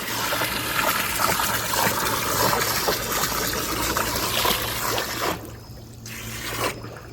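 Strong pressurized water from a hose pours steadily into a bucket outdoors, a loud continuous gushing rush that cuts off briefly near the end, with no talk.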